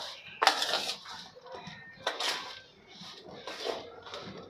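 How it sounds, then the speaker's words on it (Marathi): Ingredients for a Maharashtrian winter sweet with dry dates, coconut and hand-crushed edible gum being stirred and mixed in a pan, heard as three or four close clinks and scrapes of a utensil, fairly quiet. "तर हे मिश्रण ओतून घेतल्यानंतर आपल्याला हे मिक्स करून घ्यायचं आहे।"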